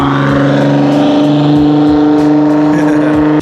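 Loud, steady roar of a 1000HP 2JZ-powered MK5 Toyota Supra as it pulls up, a deep droning exhaust tone with rhythmic pulses and no voices over it.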